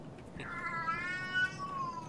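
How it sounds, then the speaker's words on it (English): A house cat lets out a single drawn-out, wavering meow close by, fairly quiet against a soft background hum. "Don't mind the cat."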